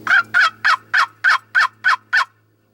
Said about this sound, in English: There's another gobbler right there with him.